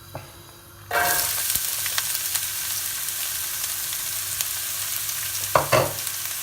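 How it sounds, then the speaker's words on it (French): Onions and garlic hit very hot olive oil and burst into a loud, steady sizzle that holds throughout, with a couple of brief stirring clatters near the end. "on fait chauffer l'huile d'olive bien fort. On attend 1 à 2 minutes et après on peut y mettre"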